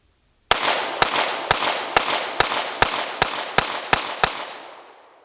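Ten sharp, loud pistol gunshots from a Staccato C fitted with a DPM Systems recoil spring kit crack at an outdoor range, fired in a steady, evenly spaced string, each with a short ringing decay.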